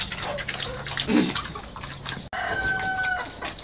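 Chickens cluck and call amid a busy pig farmyard, with splashing water and a brief cut partway through, followed by a couple of steady high tones.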